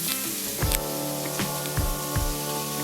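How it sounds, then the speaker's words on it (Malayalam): A large onion sautéing with potatoes in hot oil for vegetable biryani, a continuous sizzling hiss broken by a few louder bursts and clatters as pieces go in and are stirred, no talking. "ഒരു വലിയ സവാളയാണ്, അത് ഇടുകയാണ്. ഇത് ചേർത്ത് ഒന്ന് വഴറ്റാം."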